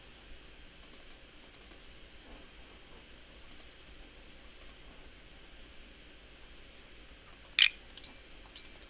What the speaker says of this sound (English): On-screen keyboard's loud.